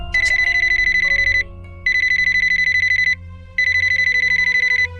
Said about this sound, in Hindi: बुशरा का फोन है।